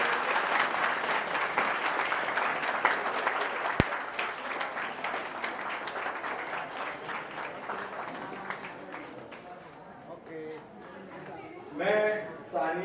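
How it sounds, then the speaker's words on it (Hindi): An audience at an education seminar of the Jaipuri Luhar Samaj in Gujarat bursts into sustained applause, with dense clapping that slowly thins over about ten seconds before a voice speaks near the end. "तालियां रुकनी नहीं चाहिए"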